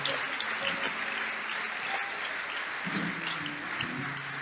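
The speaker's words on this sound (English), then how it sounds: "Let us clap our hands for the Lord." Many hands clap together in a continuous, even patter as a church congregation applauds, with faint voices beneath.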